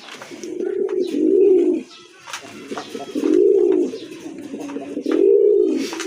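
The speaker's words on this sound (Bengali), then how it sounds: "অরিজিনাল দেশি কবুতর, রাজগোল্লা কবুতর, খুবই চমৎকার, অনেকে খুবই ডাকের অ্যাক্টিভ" Native Rajgolla pigeons coo in three clear, loud, rolling phrases with short pauses between, close by and with no talk over them.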